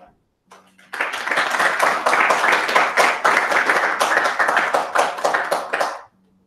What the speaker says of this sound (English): could you please show a round of applause for Pablo.